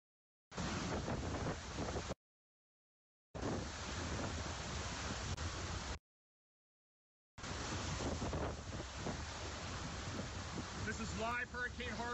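Hurricane Harvey's Category 4 winds in the northwest eyewall roar in three long, loud bursts of dense buffeting noise, broken by abrupt silent gaps.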